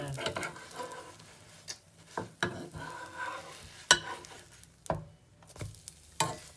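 Cinnamon French toast sizzles in a frying pan, a soft steady crackle broken by clanks and scrapes of a spatula against the pan as slices are turned, several sharp knocks standing out close by.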